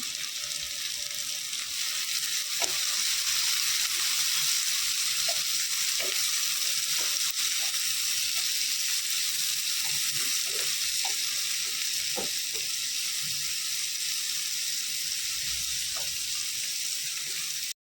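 Chopped onion and a cut tomato sauté in oil in a pan, a steady hissing sizzle with scattered soft stirring taps and occasional pops, no voices heard.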